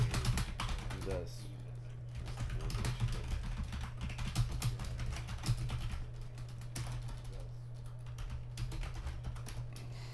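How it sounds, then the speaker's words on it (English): Rapid, uneven clatter of keys on a computer keyboard fills the room during a tabletop game session, with brief pauses between bursts and people talking faintly underneath. "ninth grade typing was a very important skill I learned"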